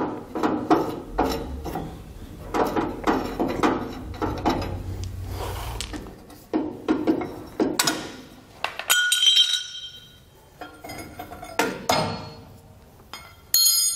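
Nuts are worked off the U-bolts of a trailer axle, giving a series of sharp metallic ratchet clicks and clinks in bursts with short pauses, close and loud, and no talking.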